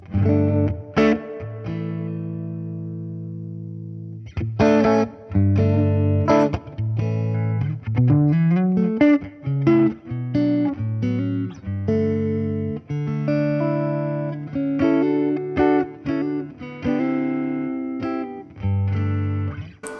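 Electric guitar played through a Fender Deluxe Reverb tube amp, single notes and chords ringing out with lush reverb tails, loud and alone.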